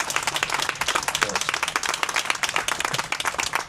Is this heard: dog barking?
no